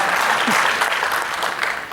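Sustained crowd applause at a Hindi comedy poetry gathering in Bhilai's Kala Mandir hall, a thick, steady clapping that carries on for about two seconds with faint crowd murmur underneath.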